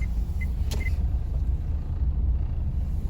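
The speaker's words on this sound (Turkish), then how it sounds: "Arabaya dikkat." A car passes close by on a busy street beside an open-air market, its steady engine rumble and tyre noise filling the scene with no one talking.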